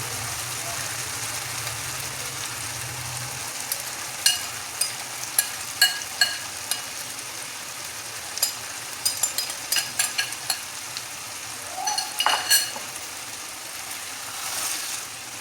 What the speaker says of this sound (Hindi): इसको अच्छी तरह से भूनेंगे ताकि जो अंडों की स्मेल है वो ख़त्म हो जाए।